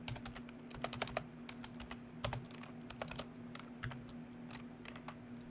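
Loud clacking keystrokes on a computer keyboard, fast irregular bursts of typing close to the mic over a steady low hum, with no talking.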